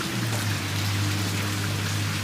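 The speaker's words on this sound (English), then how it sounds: "everything is seeming to be calming down when it's raining like this" Steady rain falls on a rainy day in North Carolina, a dense, even hiss of drops hitting surfaces that continues without pause under a low, constant hum.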